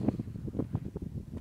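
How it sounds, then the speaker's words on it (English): Wind blowing on Walney Beach, a low rumbling buffet across the microphone in uneven gusts, close and fairly loud with no other clear sounds. "The wind's picked up slightly though"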